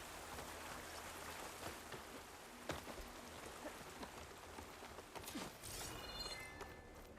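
Steady rain falls in the video game Horizon Forbidden West, a constant hiss across the whole stretch with a few sharper taps and splashes, and a faint tonal chime near the end.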